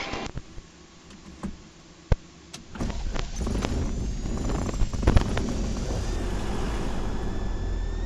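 A small airplane's engine is started. A few sharp clicks and thumps come first, then the engine catches into a steady, broad, close rumble that keeps running.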